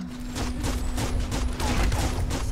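Rapid gunfire from an enemy weapon in the video game Biomutant rattles in a steady stream of loud, closely spaced shots over a constant hum.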